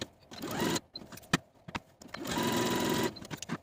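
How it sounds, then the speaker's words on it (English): A sewing machine runs basting stitches around the top of a button-up top's sleeves, whirring in two clear bursts separated by a short pause and a few clicks. "we're going to sew basting stitches all around the top of the sleeves, from notch to notch"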